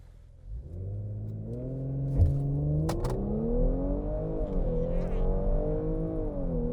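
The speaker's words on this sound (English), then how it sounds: "Dynamic mode on which will also come in with the exhaust note. You'll hear it very slightly." Audi A5 in dynamic mode accelerating, its exhaust note a smooth rising engine drone heard from inside the cabin, with gear shifts dipping and climbing the pitch, fairly quiet and steady throughout.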